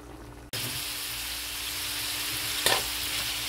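Garlic and onion hitting hot oil in a pan burst into a sudden loud sizzle that holds steady and close, with a brief stirring clatter partway through.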